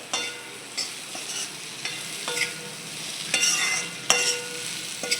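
Kantola (spiny gourd) curry is stirred in a pan, with soft intermittent scrapes and clinks of a spoon against the pan over a faint sizzle, without speech.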